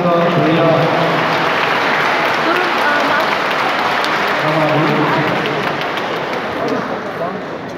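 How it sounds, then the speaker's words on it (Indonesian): Audience at a Christmas Eve Mass gives a loud, steady round of applause that slowly tapers off, with voices murmuring underneath. "Kita berikan sekali lagi tepuk tangan untuk beliau."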